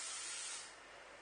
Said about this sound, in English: I'm quite happy with that, so I'm just going to spray.